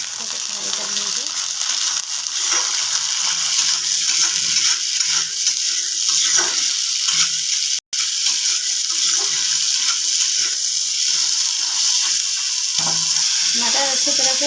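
Peas sizzle steadily in a pan for a matar kadhi recipe, a loud continuous frying hiss with faint stirring and some water-like crackle and no break except one brief dropout.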